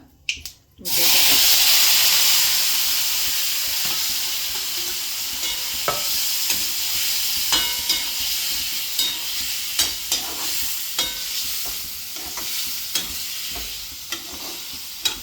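Continuous sizzling of spices and curry leaves in hot oil with sharp crackles and pops scattered throughout, close and loud, starting after a brief thud.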